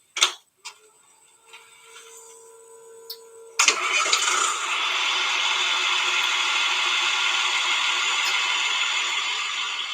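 A deuce and a half military truck's diesel engine cranks with a few brief bursts, then fires at once into a loud, steady, close idle that runs to the end.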